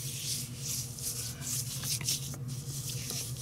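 Hands rubbing Pit Boss Hickory Bacon seasoning onto a pork butt, heard as continuous close, soft scratchy rubbing strokes over a low background hum.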